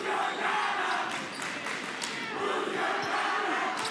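Fans at a high school boys' basketball game, Oak Park at North Kansas City, chant in unison with a steady rhythm, filling the gym with a dense, echoing roar at moderate volume.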